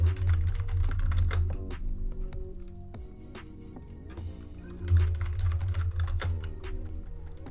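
Close, steady clatter of keys on a computer keyboard as a password is typed, with quick irregular taps over a low background hum.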